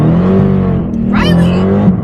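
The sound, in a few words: 700 horsepower rear wheel drive car accelerating in snow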